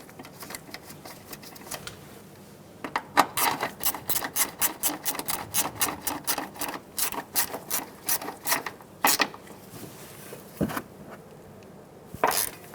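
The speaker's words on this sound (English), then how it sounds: "Snug the bolt down." A ratchet wrench snugs down the bolt on an ABS bracket of a 2007-2011 Toyota Camry during front brake dust shield work, giving rapid runs of close, crisp clicks in several bursts with brief pauses between.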